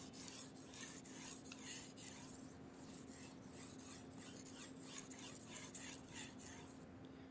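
Japanese kitchen knife drawn across a fine whetstone, a close, soft, rhythmic rasp of repeated strokes about every half second, steady throughout with a faint background hum.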